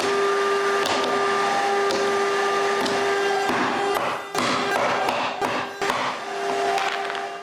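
CNC router cutting a batch of plywood discs for wooden piggy banks, a steady loud machine whir with a tonal spindle hum, broken by intermittent thumps and clatter as it works.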